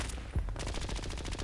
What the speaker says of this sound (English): I suddenly heard the sound of gunfire